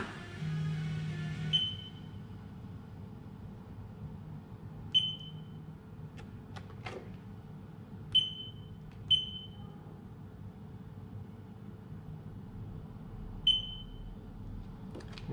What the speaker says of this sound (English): We've still got the emergency stop alarm.